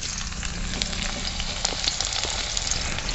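Chopped onion hits hot oil as a tempering for a jackfruit curry, giving a continuous close crackling sizzle with scattered pops, heard alone.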